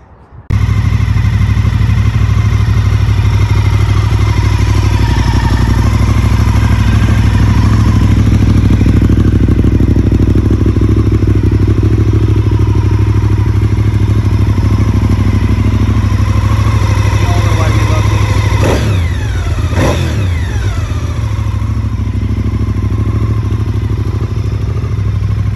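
A home-built V-twin motorcycle engine running at steady idle, a loud, close, continuous throbbing rumble with a mechanical clatter, and a brief rise near the end.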